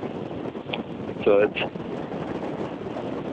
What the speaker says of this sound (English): You can hear that it's windy.